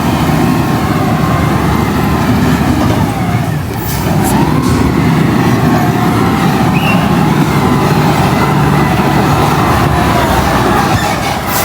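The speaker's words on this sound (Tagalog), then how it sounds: "Oh, grabe ang makina niya." Loud truck engine running nearby on a street at a construction project site, a steady heavy rumble that drones on without a break.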